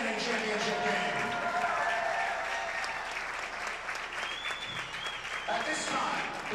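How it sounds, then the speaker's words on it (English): Arena crowd applause for hockey teams after a university championship game, a loud sustained roar of clapping and cheering with faint whistles carrying through the rink. "how about a round of applause for both of these great teams in an outstanding championship game"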